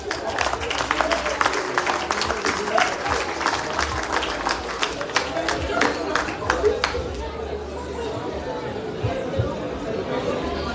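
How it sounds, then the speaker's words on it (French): Applause from the audience at official speeches during the Fête patronale du Robert, dense clapping mixed with crowd chatter for about seven seconds before thinning into murmuring background noise. "Merci de les applaudir."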